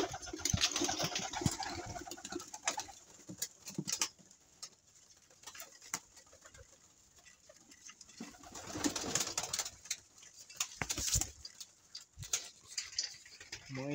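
Pigeons coo in a loft in soft repeated bursts, close by, with wing flutters and light rustling. Quieter pauses fall between the bouts, and no one speaks.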